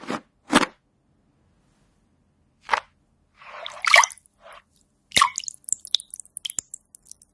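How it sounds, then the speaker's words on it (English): Mud washed off plastic insects in a water basin: scattered drips, soft squishy splashes and light scrapes, close and sparse with quiet gaps between. "We use the washing basin to carefully clean the mud off these plastic insects"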